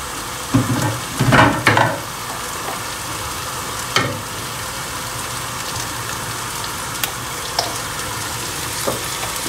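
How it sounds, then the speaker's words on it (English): Palm oil goes into a simmering sauce in a pot for Nigerian efo vegetable soup. A burst of clattering and sizzling gives way to a steady, fairly loud bubbling hiss with occasional knocks. "I'm gonna add some palm oil to my sauce at the moment."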